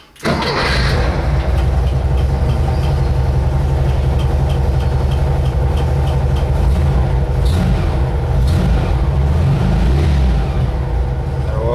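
A vehicle engine cranks and catches, then settles into a loud, steady, deep-throated idle with a faint ticking from an air-cleaner counterweight, running close and continuous.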